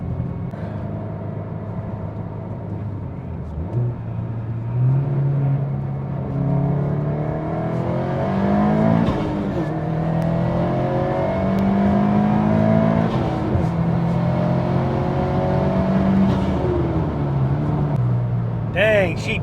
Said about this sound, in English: You can definitely hear the turbo. I can definitely hear the turbo much louder.